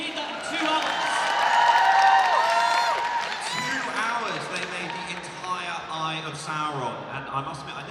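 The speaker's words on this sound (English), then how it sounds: "Big round of applause." An audience at a cosplay masquerade during MCM Birmingham 2025 claps and cheers with whoops, the applause fading under a presenter's amplified voice, which dominates the latter part.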